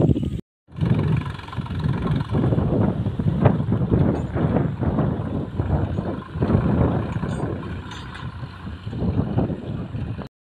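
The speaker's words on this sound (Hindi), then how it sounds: "हवा चल रही है" Gusty wind sweeps across an open fodder field, buffeting the microphone in loud, uneven rumbling bursts with no talk over it.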